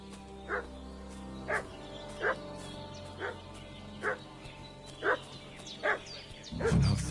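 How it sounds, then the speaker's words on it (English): Dog in the Kingdom Come Deliverance 2 video game barking steadily, eight evenly spaced barks over a low background hum, ending in a louder rumble. "What's that dog making such a fuss about?"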